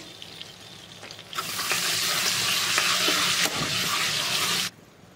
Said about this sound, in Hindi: अब हम इसमें थोड़ा सा जीरा डालेंगे दो तेज पत्ते डालेंगे दो हरी इलायची डालेंगे तीन छोटे दालचीनी के टुकड़े डालेंगे